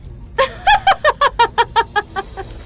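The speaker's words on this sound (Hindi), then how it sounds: "उसके हाथ में एक काला मुर्गा था जिसकी गर्दन उसने खचाक से काट डाली" A cartoon black rooster squawks in a rapid burst of about ten harsh clucking cries, loud and close, tapering slightly toward the end.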